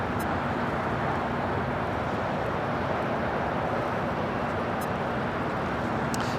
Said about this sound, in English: here we have Singapore Airlines Flight 12 coming in from Tokyo Narita on the